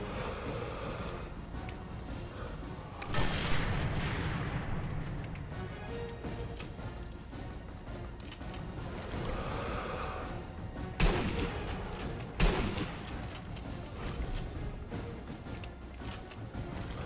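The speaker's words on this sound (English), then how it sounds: "someone's having shots at me" Gunfire in the Sniper Elite 3 video game aimed at the player: a few sharp shots ring out around the 3, 11 and 12.5 second marks over a dense, constant wash of battlefield noise and game ambience.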